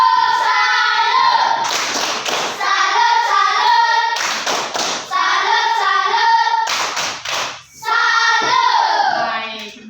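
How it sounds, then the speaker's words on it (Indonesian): A classroom group performs a rhythmic clapping chant, sung voices alternating with sharp, tightly synchronized bursts of hand claps in repeating patterns, loud and close. "Sekali lagi kita tepuk salut dulu."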